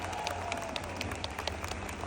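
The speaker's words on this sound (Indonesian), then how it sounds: "Tepuk tangan untuk Zahir Mania." A large crowd applauds at an Islamic religious gathering in Taipei, a steady wash of many hands clapping continuously at moderate volume without pause.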